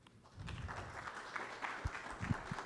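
A medical conference audience warmly claps to welcome a lecturing doctor, soft and distant, with a muffled, steady patter.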